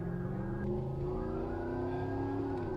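A truck automobile speeds along with a steady engine drone and a rising whine as it accelerates, constant and fairly close, with no voices.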